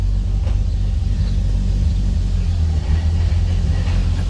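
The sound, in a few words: clutch chatter at low RPM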